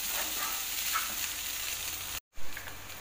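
Kanda pohe, flattened rice with onion, is stirred in a hot frying pan, giving a continuous close sizzle and scraping hiss, broken by a brief moment of silence before the frying resumes.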